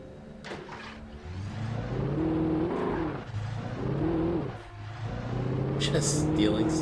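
A stolen car driven in Alan Wake, its engine revving up and easing off in uneven surges with a few clunks and knocks, a voice talking over it.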